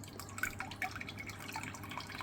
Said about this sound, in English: I have to drain that water from underneath because there's that hole in the bottom.